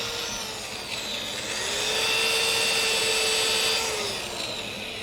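A wooden plate spinning on a lathe is sanded with 240-grit paper, a continuous hissing rub that swells louder in the middle and eases off again, close up with no talking.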